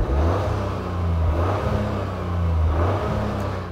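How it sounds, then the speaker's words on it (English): Toyota GR Yaris exhaust revving with a steady, fairly subdued drone that rises and falls in waves over a few seconds; muted rather than raspy, heard alone without any talking. "this car's exhaust doesn't sound particularly good"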